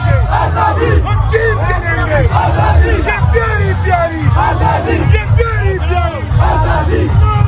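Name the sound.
crowd chanting Imran Khan Zindabad slogans at PTI rally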